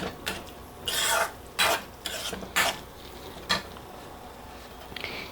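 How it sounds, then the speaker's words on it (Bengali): A spoon mashing cooked eggplant in a pan, four or five separate scraping, squishing strokes with brief pauses between, close and fairly quiet against a faint low background. "আর এইভাবে চামচ দিয়ে দিয়ে আমি বেগুনটাকে আরেকটু ম্যাশ করে নেব"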